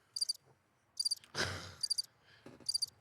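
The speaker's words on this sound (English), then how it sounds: "Just a few crickets around" Crickets chirp in short, high pulsing bursts, four trills spaced roughly every second, fairly faint and close, with a brief rustling noise in between and no talk.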